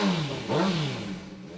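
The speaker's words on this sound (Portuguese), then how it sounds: "O barulho é de uma máquina potente." A powerful engine from one of a gang's seized luxury cars or motorcycles revs up once in a short, loud surge, with a throaty rise near the middle before settling back.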